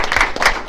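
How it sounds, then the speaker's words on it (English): A brief burst of applause at a school board meeting, with several claps crackling close together in a short, lively stretch. "let's give those folks a big round of applause"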